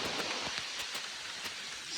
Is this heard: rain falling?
yes